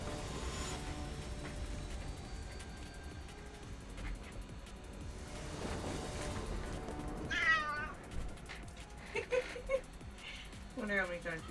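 A confused house cat meows indoors several times near the end, a few short wavering cries that come over steady background noise and rustling.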